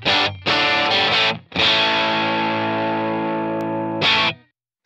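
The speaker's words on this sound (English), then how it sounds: "And then red is my overdrive." Overdriven electric guitar tone through a Headrush Core modeler: a few short distorted chord stabs, then a long sustained chord ringing out, and a final short hit, loud and without talking.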